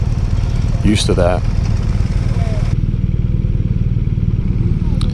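A BMW motorcycle engine, from a demo day lineup that includes the M1000XR, M1000R, R1250RT and R18 Bagger, runs steadily and loudly close by with a throbbing idle, as a brief word is spoken over it.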